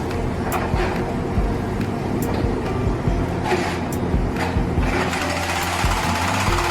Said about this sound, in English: This is the robotic hacking of Cheras clean room.